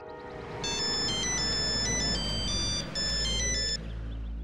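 A telephone ringtone rings while a call is placed, a bright electronic tone sounding in repeated bursts over a steady background hum, close and loud.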